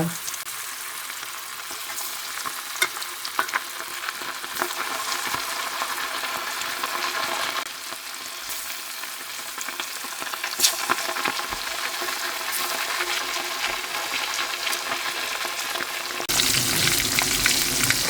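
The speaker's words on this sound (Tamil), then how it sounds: "இந்த சூட மீன் பொரிஞ்சு கொண்டிருக்கிறார்" Continuous crackling sizzle of sooda fish frying in hot oil, close and steady, with occasional pops and a louder burst near the end.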